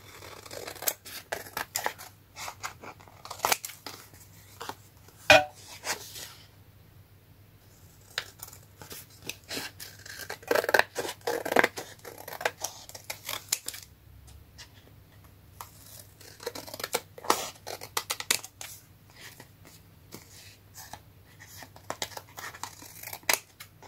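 Scissors snip through scrap paper for card making, a long run of quick, close crisp cuts in irregular bursts with brief pauses, no talking.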